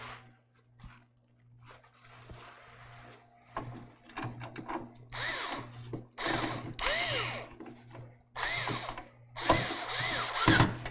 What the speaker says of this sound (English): we're just going to start each screw on the opposite corner